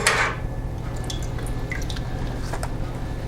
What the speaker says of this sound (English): And then I can pour the water